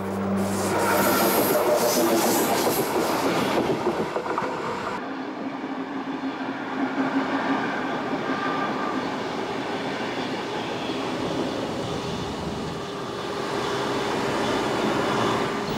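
A train runs through the mountains of Pajares in Asturias, a steady rolling rumble with wheel and rail rubbing that stays loud and continuous throughout.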